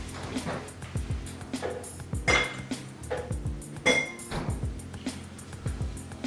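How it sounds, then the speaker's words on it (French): Repeated clinks of a metal fork against a bowl as gelatin is briskly stirred, with a steady rhythm of light taps and scrapes. "Je vais mélanger avec une fourchette pour être sûr que toute la gélatine soit bien hydratée."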